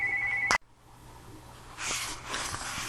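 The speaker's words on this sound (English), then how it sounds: "And there's the phone." A telephone rings loudly and close for about half a second, then cuts off abruptly, leaving quiet room noise and a low steady hum; nobody speaks.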